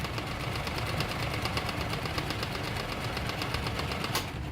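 A sewing machine running a straight seam gives a fast, even mechanical chatter with a steady pulsing rhythm, moderately close and continuous, ending in a single brief click.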